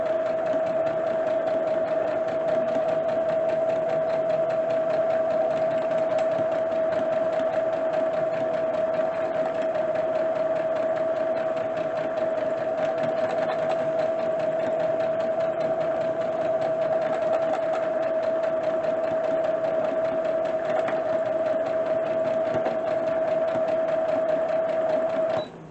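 Sewing machine stitching along a marked line on a T-shirt dress, a steady continuous motor whir with a strong constant hum running uninterrupted and close for the whole stretch, without pauses.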